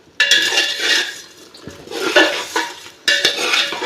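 Metal spoon scraping and clattering in a pot as cauliflower is stirred into gobi palav, repeated close scrapes and clinks in irregular bursts with no voices.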